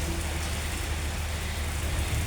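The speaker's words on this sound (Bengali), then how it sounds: "অনেক বৃষ্টি, বিদ্যুৎ চমকাচ্ছে, বৃষ্টি দেখাচ্ছে আপনাদের কি ভয়ানক বৃষ্টি হচ্ছে।" Heavy rain during a thunderstorm, a dense, steady wash of falling water with no pauses.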